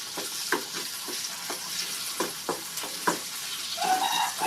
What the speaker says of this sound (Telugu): మళ్ళీ ఒక ఐదు నిమిషాలు ఒక టూ మినిట్స్ ఫ్రై చేద్దాం